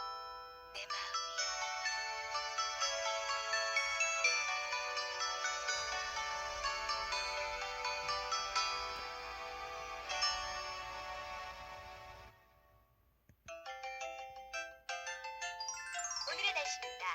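A Samsung SPH-B2350 mobile phone plays its ringtones, bright electronic melodies of chiming tones that repeat in phrases. After a short break a second tune starts, clear and close with no background noise.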